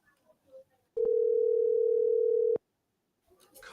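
A telephone line tone sounds in one steady buzzing burst of about one and a half seconds, loud and close, with faint noises before and after.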